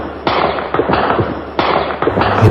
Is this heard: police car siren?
no